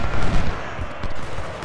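Dense crackling musket volleys from infantry lines fire in rapid overlapping bursts in the Civil War battle game Ultimate General: Civil War, loud and continuous throughout.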